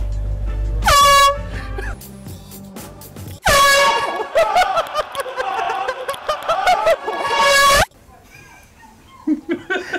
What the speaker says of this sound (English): Revenge of the air horn